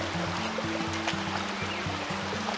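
Kilbride Creek flows past a log jam in a wooded setting, a steady gentle rush of water with a low pulsing hum running beneath it, continuous and fairly faint.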